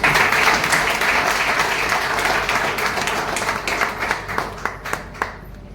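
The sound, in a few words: audience clapping loudly for the company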